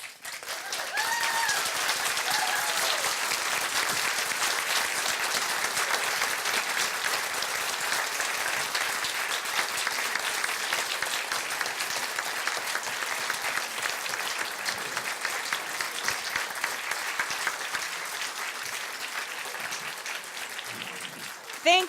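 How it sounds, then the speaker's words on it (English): Sustained audience applause fills the room at a Maine congressional district House candidates forum, a steady dense wash of clapping lasting throughout with no talk over it. "I would like to give a big round of applause."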